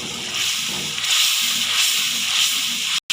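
Masala for chana dal roasting in a pan gives a steady, loud hiss and sizzle, close by and continuous, with faint sputtering and no talk.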